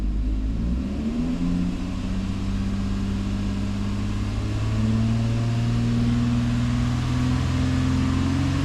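A car engine revs up from idle as the throttle is swept open, the steady hum rising in pitch and holding at a higher drone, close and alone without talk.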